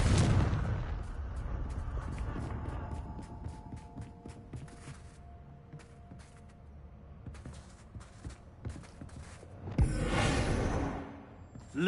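Blasts from the Confringo explosion spell in the Hogwarts Legacy video game: a loud burst at the start, then sharp crackling impacts and debris, with another heavy explosive whoosh near the end.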